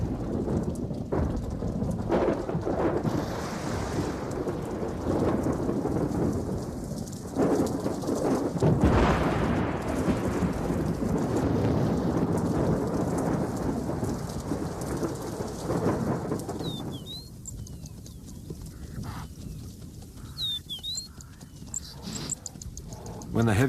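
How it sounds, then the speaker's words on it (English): Heavy thunderstorm over the savanna at Chobe Park, Botswana: dense, steady rain roars throughout with deep rolling thunder rumbles. The downpour eases slightly near the end, where a few faint bird calls break through. "When the heavy thunderstorms rake the savanna"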